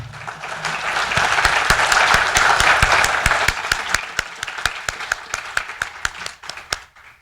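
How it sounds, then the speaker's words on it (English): Crowd applause at a mayoral and city council candidates forum in Northglenn, starting full and dense, then thinning into a few scattered individual claps as it dies away. "Let's give these people a big round of applause."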